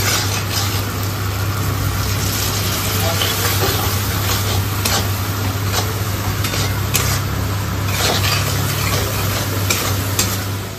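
Spice masala for a fish curry is stirred and sautéed in a pan, giving a steady sizzle with scraping spatula strokes throughout and a continuous hum underneath.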